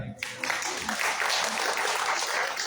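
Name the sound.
audience applause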